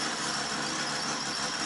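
A Nissan RB25DET engine idles while warming up, a steady dense rumble with a faint high whine running without change for under two seconds.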